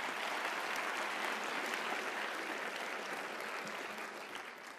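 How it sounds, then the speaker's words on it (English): Steady, dense applause from a large university commencement audience fills the whole stretch, loud and sustained before easing slightly toward the end, with no voices on top. "Every year, yeah, that's worth applause."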